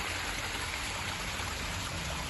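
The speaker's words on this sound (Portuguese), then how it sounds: "Fizemos também uma cachoeirinha, por causa do barulho dos carros, só que é o barulho da água" A small garden waterfall pours in a steady, continuous rush of running water, close and even throughout with no voices.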